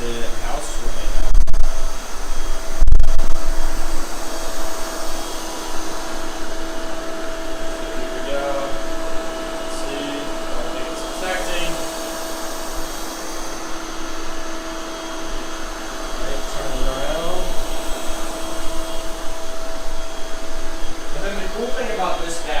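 A Honiture robot vacuum and mop combo whirs with a steady motor hum and brush drone as it moves around a house, with a couple of soft bumps and a person talking over it.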